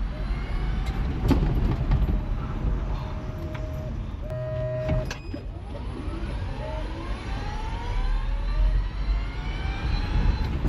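A Nissan Frontier pickup converted to an electric motor accelerates hard, with a rising whine sweeping upward over road and wind rumble, heard close from inside the cab, with talking now and then.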